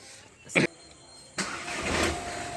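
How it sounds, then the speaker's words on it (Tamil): A VW Polo with a starting and idling problem cranks briefly and then catches, settling into a low idle up close, with no one speaking. "இப்போ வந்து பார்த்தீங்கன்னா வண்டி எப்படி ஸ்டார்ட் ஆகுதுன்னு பார்த்துருவோம்"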